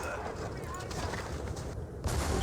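Artillery counter fire in a Napoleonic battle video game, a sustained rumbling roar of cannon fire with a heavier blast near the end, while someone talks over it.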